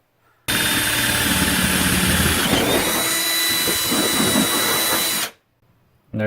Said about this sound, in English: I'm just gonna drill a hole right through it, just so the wires can go through it,